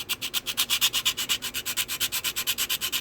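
Steady back-and-forth strokes of a sanding stick, a rapid even rhythm of rasping scrapes, close and fairly loud with no talking.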